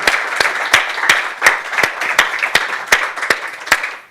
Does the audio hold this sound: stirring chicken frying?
no